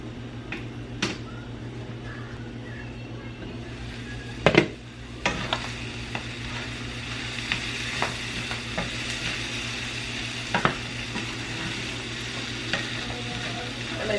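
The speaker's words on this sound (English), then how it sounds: "Cover that, let that cook for a minute." Food sizzles and fries in a covered pan on a home stove, a steady crackle running throughout with occasional sharp clicks and a louder clatter near the middle.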